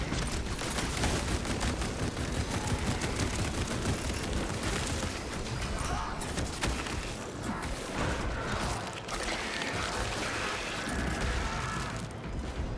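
A servo gun blazes away in Space Marine 2, a loud, dense stream of rapid gunfire and mechanical clatter that barely pauses across the whole stretch.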